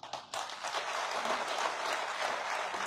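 Audience applause at a political gathering, a dense wash of clapping that starts abruptly and holds steady, moderately distant and fairly soft.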